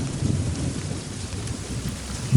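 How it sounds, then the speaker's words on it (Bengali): Steady rain pours down in a continuous hiss with a low rumble underneath, unbroken throughout, no voices. "বাইরে শুধু বৃষ্টির একটানা আওয়াজ"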